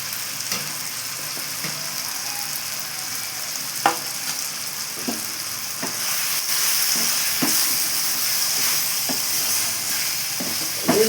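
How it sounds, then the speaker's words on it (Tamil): Chilli chicken 65 pieces frying in hot oil, a steady bright sizzle and hiss with scattered pops and occasional stirring clinks, growing slightly louder partway through. "இந்த ஆயிலில் போட போகிறோம் சிக்கன்."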